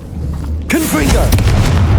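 A Confringo fire spell bursts in a mine tunnel in Hogwarts Legacy, a sudden loud boom with a whooshing flare that rings out over a low rumble, while a voice speaks over it.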